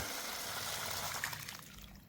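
Water rushing out of a household pressure tank being flushed of sand, a steady close gush that thins and weakens toward the end, with no talking.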